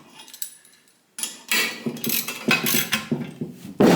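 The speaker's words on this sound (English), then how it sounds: "This is a 3/4 inch socket. Tighten those down." A 3/4 inch socket tightens washers and nuts while a 2 x 72 belt grinder is assembled, giving a close run of sharp metallic clicks and clanks in an uneven rhythm after a brief quiet start.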